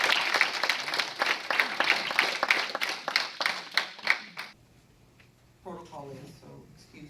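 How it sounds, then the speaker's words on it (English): A school board meeting room breaks into applause for itself, several seconds of lively, fairly close clapping from a modest group that stops abruptly, followed by a voice starting to speak. "I just want to give ourselves a round of applause"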